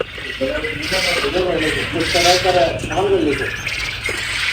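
Laying hens in a poultry shed cluck and call in overlapping bursts, close and fairly loud over a steady background hum, with a voice talking among them.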